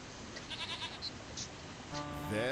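A goat bleats in the King's Quest I VGA video game, several short high cries over a steady game backdrop, with a longer, louder bleat rising at the very end.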